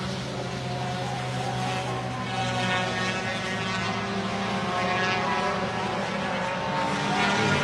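Lambretta racing scooters in a Group 6 race at Pembrey, a dense, steady drone of two-stroke engines passing on track, loud and continuous over the whole stretch.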